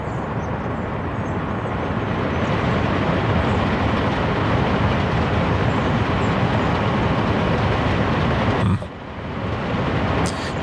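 A train in the city-building game Soviet Republic rumbles past as a dense, loud, continuous rolling roar, briefly dipping near the end before resuming.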